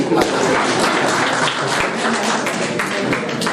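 Audience applause during a lecture on proverbs in classical Telugu literature: a steady, dense roar of many hands clapping that fills the whole stretch at an even, fairly loud level.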